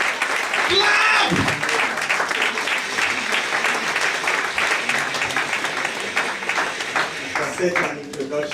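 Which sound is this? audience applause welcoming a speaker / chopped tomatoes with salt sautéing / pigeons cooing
audience applause welcoming a speaker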